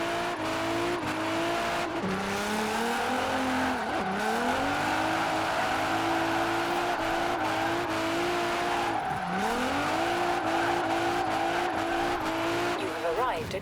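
A 1000HP Nissan Pulsar GTi-R in Forza Horizon 4 drives at high speed, its engine droning steadily with rising and falling revs through gear shifts and tyres squealing, loud and continuous throughout.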